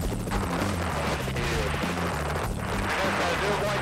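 A helicopter flies low over mountain terrain, its rotor and turbine making a loud, steady throbbing drone that continues throughout.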